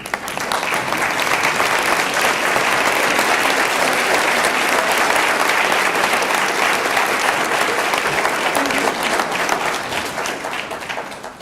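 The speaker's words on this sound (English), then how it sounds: "please stand now and be recognized by a round of applause" Sustained applause from a large audience at a university honors convocation, a dense steady roar of many hands clapping that holds evenly for about ten seconds and then fades slightly at the end.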